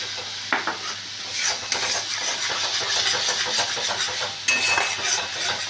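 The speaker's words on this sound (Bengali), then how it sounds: "দিয়ে এবার ভালো করে মশলার সাথে এটাকে কষিয়ে নিচ্ছি।" Rupchand fish sautéed with spice masala in a pan, close sizzling under repeated scraping stirs and clinks of a utensil against the pan, no talking.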